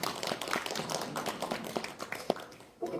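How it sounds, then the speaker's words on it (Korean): A church congregation claps in welcome for a pastor and his wife, a short burst of dense, close applause that holds steady for about three seconds. "지금 박수 환영하겠습니다"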